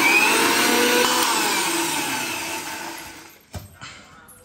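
An electric mixer grinder blending mint chutney whirs loudly, then winds down and fades over a few seconds, ending in a few clunks as the jar settles.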